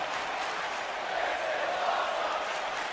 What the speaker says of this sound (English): this crowd really loving it